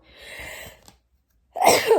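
A person sneezes loudly and close by, a sharp burst preceded by a breathy intake and a short pause.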